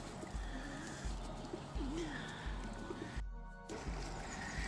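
Pigeons coo softly by a pond, with a low rolling coo repeating several times against steady outdoor ambience and a faint distant rumble.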